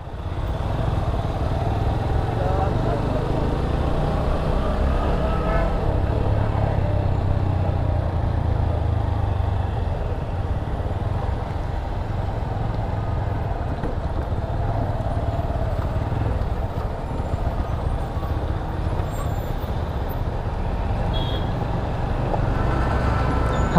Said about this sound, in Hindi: अबे देखना इतना ट्रैफिक किस बात का पता भी नहीं